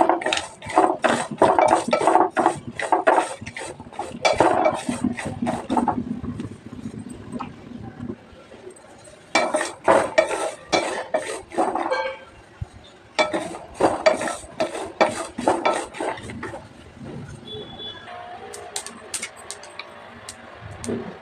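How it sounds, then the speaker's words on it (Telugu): Sesame seeds roasting in a pan with cinnamon, cloves and cardamom: a spoon scrapes and clinks against the metal in repeated bursts of stirring, with short pauses and a faint hiss underneath. "తర్వాత 2 టేబుల్ స్పూన్ నువ్వులు వేస్తున్నాను. నువ్వులు కూడా వేయించాలి."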